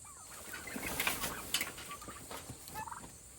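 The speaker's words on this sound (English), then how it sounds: "And look at these turkeys" Turkeys gobbling inside a hoop chicken coop set on fresh grass, several bursty gobbles rising and falling over faint background clucking and rustle, fairly quiet and somewhat distant, with no talk.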